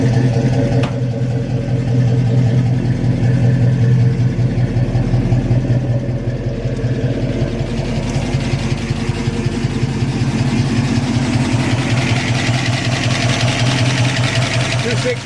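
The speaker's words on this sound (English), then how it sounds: "V8, 30 over, 600 Holly, solid lifters, that's what you hear." A V8 car engine bored 30 over, fed by a 600 Holley carburetor and fitted with solid lifters, idles steadily and loudly nearby, with a rapid ticking valvetrain chatter running through its rumble and voices talking over it.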